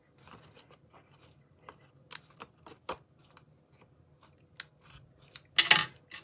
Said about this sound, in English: I'm just going to rest it and get part of it here and then snip it off.